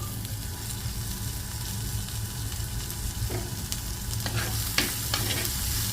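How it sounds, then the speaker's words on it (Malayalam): Onions and slit green chillies sauté in a pan for an onion theeyal, giving a steady close sizzle and frying hiss throughout, with occasional scraping stirs of a utensil against the pan. "ഇനി നമുക്ക് ഈ ഉള്ളി നന്നായിട്ട് വാടി വരുന്നത് വരെ നമുക്ക് വഴറ്റിയെടുക്കാം."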